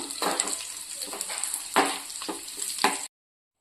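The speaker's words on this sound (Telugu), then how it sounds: "జీడిపప్పు కిస్మిస్ అయితే ఫ్రై చేసుకుందామండి నెయ్యిలో" Cashews and raisins frying in hot ghee, a continuous crackling sizzle broken by louder spatters and stirring bursts, close up, cutting off abruptly near the end.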